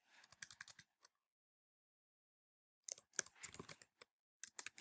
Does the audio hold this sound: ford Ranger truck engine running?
no